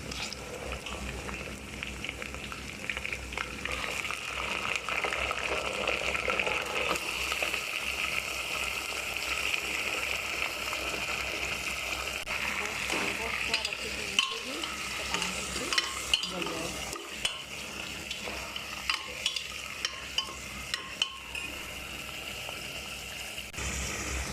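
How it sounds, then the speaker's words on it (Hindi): Mutton frying in a pot with browned onions, sizzling steadily while a spoon stirs and scrapes, close and continuous, with occasional clunks of the utensil against the pan. "प्याज हमारी ब्राउन हो चुकी है, इसमें हम डालेंगे गोश्त।"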